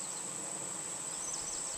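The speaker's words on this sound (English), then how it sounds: "There's a lot of bees in this hive." Dense, steady hum of many honeybees packed in a hive, a continuous close buzzing drone with no pauses and no voices.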